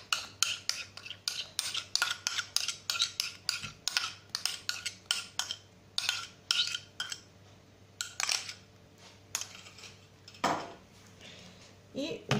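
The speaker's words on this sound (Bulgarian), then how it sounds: "И отново ги разбъркваме." Whisk or spoon clatters rapidly against a bowl while eggs are stirred for a cheese banitsa, with quick rhythmic clinks through most of the stretch, a brief pause, then a few more scrapes and taps, close and clear.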